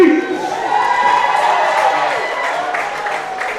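A packed crowd inside Wildcat Stadium cheers and roars at a football game, a loud, dense, sustained wall of voices rising and holding steady.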